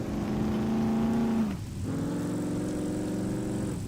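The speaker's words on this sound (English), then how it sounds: "this truck sure sounds great with the V8 engine" A pickup truck's V8 engine drives in the video game SCUM, a loud steady engine drone with a brief dip as the revs drop and then climb again.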